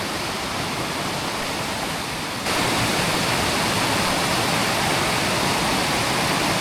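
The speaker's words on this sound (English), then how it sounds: "this is one of the cooler waterfalls I've ever seen" Constant rushing roar of a waterfall flowing straight out of a rock bluff in the Missouri backcountry, broadband and steady, growing noticeably louder partway through as if moving closer.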